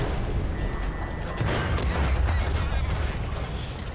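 A tank cannon fires in a video game battle, a heavy low boom in the middle standing out over a constant loud rumble of combat noise, with scattered crackling shots around it.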